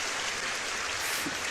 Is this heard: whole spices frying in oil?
no